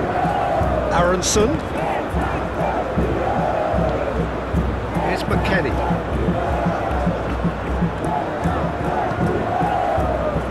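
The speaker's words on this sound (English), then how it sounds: "Well, the crowd clearly like what they just saw." A big stadium crowd at a Brazil vs USA World Cup football match rumbles and roars continuously beneath a commentator naming players.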